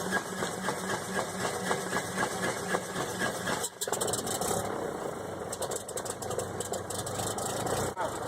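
A light aircraft's propeller engine starts up and settles into a steady, loud, close idle, a continuous throbbing drone with a brief dip partway through.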